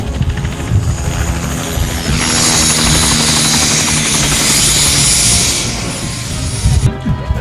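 A helicopter arrives for a wedding procession in Sorkha Kala, Rajasthan, its loud rotor and engine roaring close and constant throughout. Crowd noise sits underneath, and there is rustling near the end.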